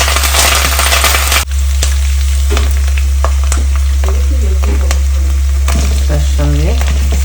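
Curry leaves, chopped ginger and chopped chilli hit hot frying oil with a loud, dense sizzle, then settle into a steady crackling fry with scattered spatters and stirring clicks, close and without speech.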